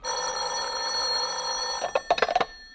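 An old-fashioned telephone bell rings steadily in a radio drama, then breaks into a few quick jangling bursts near the end, loud and close with no talk over it.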